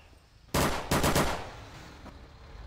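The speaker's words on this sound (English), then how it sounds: "we're taking fire by a thief" Gunfire in Garry's Mod DarkRP: a loud, close automatic burst, a brief pause, then a second longer rapid burst, followed by a faint single shot, with no talking.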